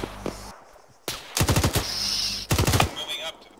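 Heavy machine gun fire in a war video game, two loud sustained bursts of rapid, evenly spaced shots, each lasting over a second, separated by a brief pause, close and dominant.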